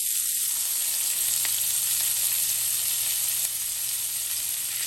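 A vegan chopped cheese cooking in a pan, seasoned with fresh ground pepper, gives off a steady loud sizzle throughout with faint brief knocks as it is flipped; no voices.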